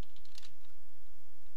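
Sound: typing a Google search on a computer keyboard

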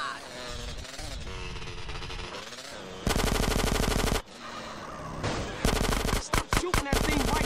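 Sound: gunfire in the video game GTA San Andreas

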